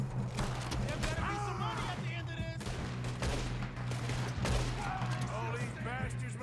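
Gunfire in Red Dead Redemption 2 cracks out in repeated shots over continuous game ambience and low engine-like rumble, with people talking through the clip.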